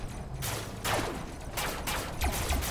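Shots fired in a mech combat video game, a few sharp bursts spaced across the moment and sitting over a steady background hum of engines.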